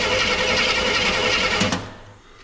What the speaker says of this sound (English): I will crank the engine over a few times and watch the compression go up.